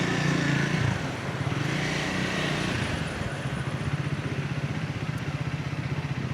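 A vehicle drives slowly past outdoors with a steady, loud engine drone and low rumble, a heavy wind-buffeted wash easing after the first second.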